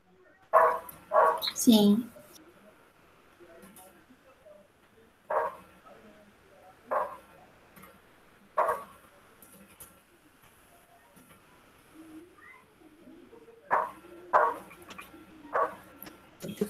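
A neighbor's small dog barks repeatedly in short bursts through an afternoon, the yaps fairly distant and recurring at irregular intervals, with a person speaking quietly between them.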